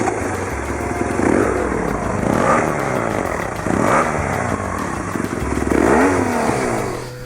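A 2010 BMW R1200GS motorcycle engine with a more aggressive exhaust starts and idles, then is blipped in four loud throttle bursts that rise and fall back to a rumbling idle close by.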